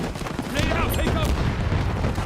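Dense burst of gunfire and a booming grenade blast in a first-person shooter video game, loud and continuous for a couple of seconds, with chatter and game voices faintly mixed under the explosions.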